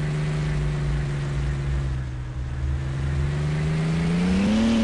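Steady in-game car engine drone from a B&B sedan modeled on a BMW in Roblox Taxi Boss, a low hum with harmonics that climbs slightly in pitch near the end as the car accelerates, with no talking.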